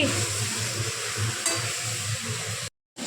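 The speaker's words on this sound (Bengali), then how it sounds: "এই যে আমাদের এখন চিকেন কষা হচ্ছে।" Chicken frying in a pan for kosha, a steady dense sizzle with faint stirring clinks, close up and without talk, cutting off briefly near the end.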